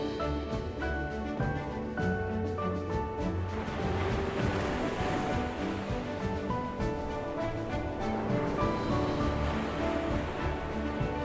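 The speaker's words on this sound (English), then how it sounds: "you can hear the sound of water moving like a massive body, inhaling and exhaling" Tidal water of the Bay of Fundy surges in a continuous, full-bodied wash, loud and close, with rushing turbulence and no voices.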